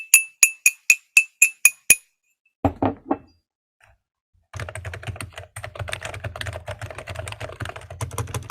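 A cup clinks eight times in a quick, even rhythm, bright and close. A few duller knocks follow, then a steady wash of clattering background noise. No one speaks.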